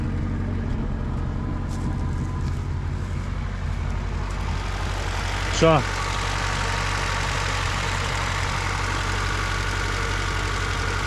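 A Niva car engine idles steadily close by with a low, even rumble throughout, and a voice briefly asks something midway.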